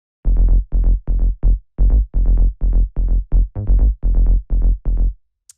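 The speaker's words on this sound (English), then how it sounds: "The first sound I have here is the bass," Staccato tech house bass line at 127 BPM, short punchy bass notes repeating in a tight, evenly spaced rhythm, loud and dry with brief silences between hits and nothing else playing.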